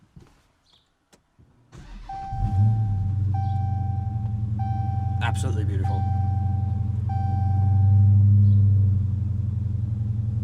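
A small car's engine, not a V6, cranks, catches and settles into a loud, deep idle with a brief rise in revs. Dashboard chimes beep over it, and someone speaks briefly.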